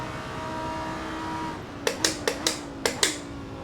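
A GT3 race car in a racing sim, its engine droning with rising and falling pitch through gears, followed by a burst of sharp rapid clicks or shifts near the end, close and without talking.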